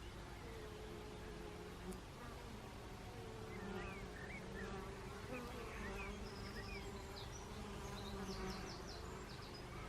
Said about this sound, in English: Listen to the noise they're making